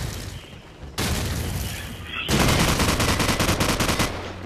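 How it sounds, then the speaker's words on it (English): Video game gunfire in a multiplayer shooter: heavy booming shots, then rapid bursts of automatic fire that rattle on loudly to the end. "You shooting down here, mate."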